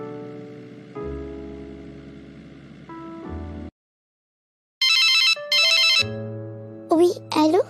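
A telephone rings in a French-language Christian animated series: two bright electronic ringing bursts break a pause after soft synthetic tones. Brief musical and voice-like sounds follow.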